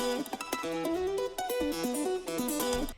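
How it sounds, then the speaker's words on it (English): High, chirpy pitched-up guitar notes with a gritty, crunchy digital edge, playing a quick choppy riff. "It gives it this bit crushed chipmunk kind of sound"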